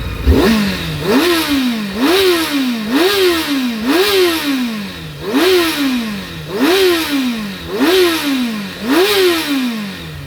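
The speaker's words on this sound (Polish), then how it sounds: "Chodzi pięknie, naprawdę diabeł rogaty ten motor." A 2006 Honda CBR 600 F4i sport bike engine runs close by and is revved in a steady rhythm, about eight quick climbs and drops in pitch, loud and alone.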